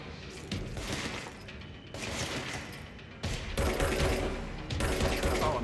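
Sustained gunfire from the video game Control rattles in continuous bursts at moderate loudness, with short breaks between volleys and no talking over it.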